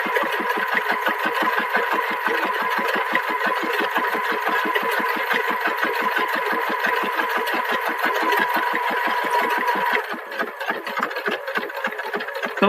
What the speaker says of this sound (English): we're going to put in some cloth, clamp it down, turn on the machine, and away it sews.